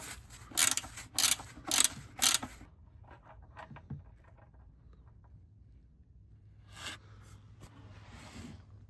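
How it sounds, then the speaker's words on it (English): Ratcheting wrench clicks from a set of Temu wrenches used on a 1996 Ford Mustang GT: four loud bursts of rapid clicking up close, then faint scattered metallic ticks and a later quieter burst of ratcheting. "Perfect job to use the Timu wrenches on."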